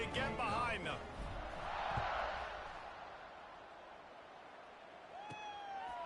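Stadium crowd noise swelling before a kickoff in College Football 26, a broad steady roar that peaks and then eases, with brief whoops and a commentator's voice over the top.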